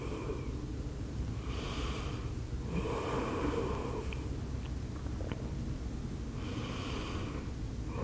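Slow, steady breaths in yoga child's pose, soft airy inhales and exhales repeating every couple of seconds, close and alone with no talking.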